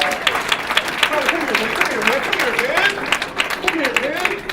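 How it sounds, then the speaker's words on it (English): An indoor audience at a Martin Luther King Jr. unity breakfast claps for Tyler, a dense, steady patter of applause, while a voice talks over it throughout. "Give a round of applause to Tyler, first of all, before you even get started."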